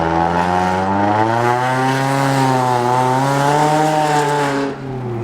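A car engine revs hard in a rev battle against a Nissan 350Z, a loud, sustained roar whose pitch swells and wavers for about five seconds before easing off at the end.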